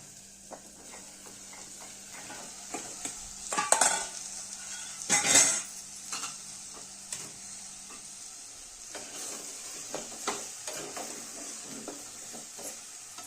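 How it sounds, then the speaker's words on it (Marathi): Mutton dropped into a hot pot of roasted masala for handi mutton, with two loud clattering bursts of spoon against the pot over a quiet sizzle, followed by softer scraping and stirring. "आणि आता टाकूया ही मटण."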